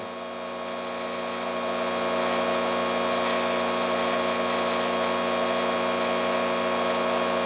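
A Harbor Freight electric chainsaw sharpener grinding a chain tooth gives a steady, high-pitched motor whine that rises slightly at the start, then holds constant and fairly quiet with no voices.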